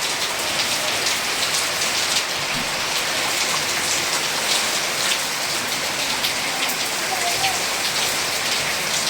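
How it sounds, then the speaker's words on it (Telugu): Heavy rain pours during a storm, a loud, dense, continuous hiss of drops hitting surfaces that holds steady throughout, with no talk. "వర్షం పడి ఒక 1/2 అవర్ అవుతుందండి, ఇంకా తగ్గదు."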